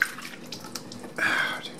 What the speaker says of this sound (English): submerge the screens in soapy water.